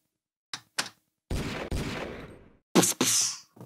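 Video game gunfire, first two short sharp shots, then longer sustained bursts of rapid fire, followed by two more loud blasts, all fairly close and with no talking.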